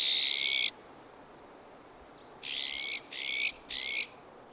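Barn owl, a mother resting with large nest-leaving chicks, gives a series of harsh hissing screeches: one long call, then three shorter bursts close together after a pause, fairly near and alone in quiet surroundings.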